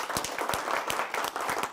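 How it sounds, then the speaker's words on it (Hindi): Audience applause at a Hindi kavi sammelan poetry event, a brief burst of dense, steady clapping welcoming a poet to the stage. "एक बार तालियों के साथ स्वागत करें"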